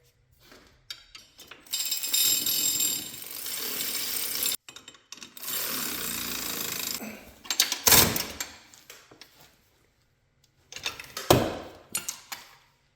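A 17mm wrench tightens the subframe brace bolts on a Polaris ATV, giving a run of close, sharp metallic ratcheting clicks in bursts with short pauses between them. No voices.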